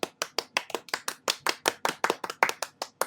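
Steady, rhythmic hand clapping during a podcast recording: about fifteen sharp, evenly spaced claps over a few seconds, close and crisp, with no talking over them.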